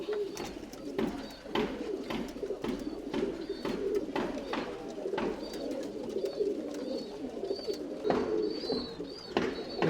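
Tumbler pigeons cooing in a loft in Bangalore, a steady chorus of low throaty coos from several birds nearby, with soft flutters and occasional chirps over the murmur.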